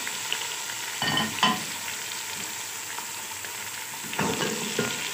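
Biryani masala, tomatoes, green chillies and potatoes stirred and mixed in a pan, giving soft scraping and sizzling strokes in two short bursts over a steady frying hiss, close and moderately loud.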